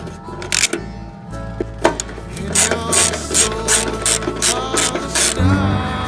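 Ratchet fitted with a 13/32 socket turning nuts on a Jeep Wrangler driver-side fender, heard close as rapid repeated clicking bursts with short pauses and a few knocks.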